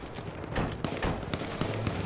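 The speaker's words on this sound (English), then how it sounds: "Someone's shooting at us." Rapid gunfire from a firefight in the video game H1Z1: Battle Royale: dense, overlapping bursts of shots that crack steadily through the full two seconds, loud and close, with no voices over them.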